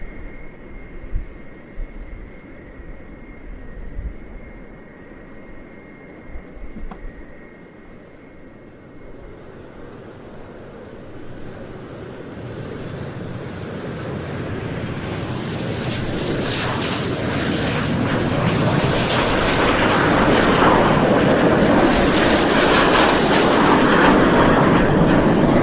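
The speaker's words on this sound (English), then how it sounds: "the engines are clearly spooling on account of the cloud of black smoke that has appeared behind the aircraft" Jet engines on departing military aircraft at RAF Fairford, the Mark 65 engines spooling up and trailing black smoke as the jets roll; a broad roar that swells steadily from a moderate rumble to a loud, sustained blast.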